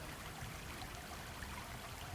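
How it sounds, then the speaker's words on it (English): Flowing water like a fountain or mountain stream, heard as a steady, soft, continuous rush and trickle at a low level, with no talk over it. "Listen to the sound of the water flowing, dancing, rushing"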